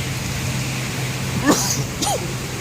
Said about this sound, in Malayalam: വണ്ടിയുടെ ഉള്ളിൽ നിന്ന് നോക്കിയ മഴയുടെ ശക്തി